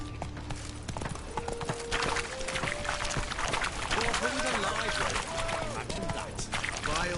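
Horse hooves clip-clop steadily at a gallop in The Witcher 3, mixed with game music and ambient noise while someone talks over it.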